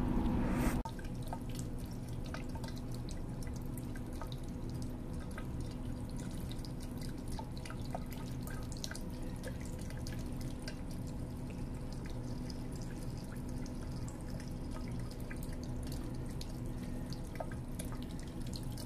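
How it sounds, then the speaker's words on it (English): Silver solution drips and trickles steadily while being decanted and filtered in a chemistry setup, small faint liquid drops falling repeatedly over a quiet background after a brief louder pour at the start. "I'm gonna just decant this top part, you know, as best as I can, and then I'll filter it off"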